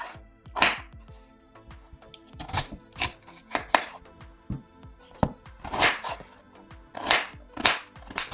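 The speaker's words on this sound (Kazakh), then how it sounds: "Майда бөліктерге бөлеміз тез пісуі үшін." Peeled potatoes being cut into small pieces with a knife on a board, a run of irregular chopping thuds and scraping strokes, close and fairly loud, with no talking.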